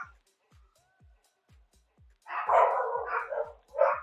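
Several dogs barking in bursts of loud, overlapping yaps and woofs in the latter half, after a quiet stretch with faint rhythmic ticking in the background.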